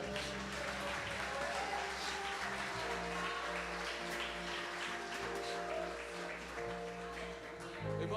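A church congregation clapping in praise, a steady wash of hands under sustained organ or keyboard chords that carry throughout.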